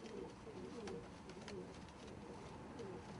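Pigeons in a loft, including blues, reds, silvers, yellows and khakis, cooing softly and continuously in a faint murmur with no clear breaks.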